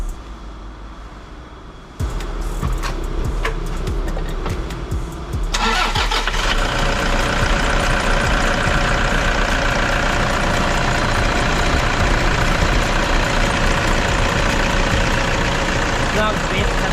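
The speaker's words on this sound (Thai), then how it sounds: "สตาร์ทเครื่องให้ฟังก่อน" A 2010 Toyota Hilux 4WD with a 2,500cc engine cranks and catches at about two seconds, then settles into a steady, close idle that runs to the end, with someone speaking over it.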